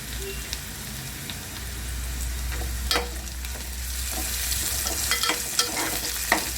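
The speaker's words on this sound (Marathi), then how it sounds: "कांदा भाजून घेऊया कांदा भाजत आला आहे" Onion fries in a pan with chilli and ginger-garlic paste, a continuous loud sizzle broken by scattered scraping clicks of stirring, up close and without speech.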